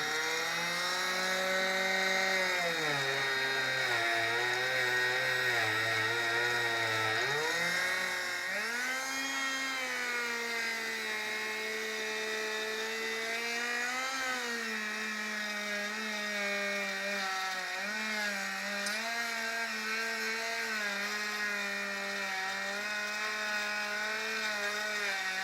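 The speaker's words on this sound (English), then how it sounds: "battery-powered Proxon here with the little vise" A battery-powered Proxxon rotary tool held against a small vise grinds rust off a Model T wrench, a continuous close high whine whose pitch dips and wavers as it bears into the metal, with no talk throughout.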